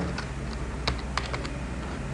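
Several quick, light keystrokes on a computer keyboard as the word Microsoft is typed into a word processor, close and fairly soft with irregular spacing and a few louder taps.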